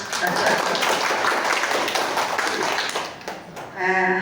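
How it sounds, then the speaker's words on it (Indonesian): Indoor applause at a health centre gathering, a crowd clapping in a dense patter that fades toward the end before a voice resumes speaking. "silahkan tepuk tangan"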